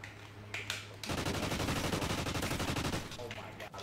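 Rapid bursts of gunfire from a video game shooter match, a dense sustained volley lasting a couple of seconds, loud and close, with quieter single shots before and after.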